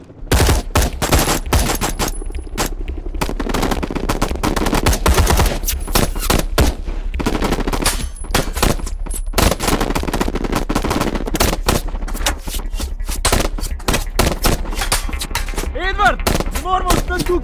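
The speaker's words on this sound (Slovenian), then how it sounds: "tudi mi začnemo streljati!" Intense machine gun and rifle fire in a film battle scene about Slovenia's 1991 independence, with dense rapid bursts throughout, loud and close, and voices shouting now and then over the shooting.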